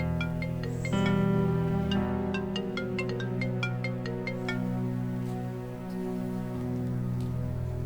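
A melodic phone ringtone plays while a call is placed, bright repeating notes over a sustained tonal background, steady and clear at moderate volume, with no talk.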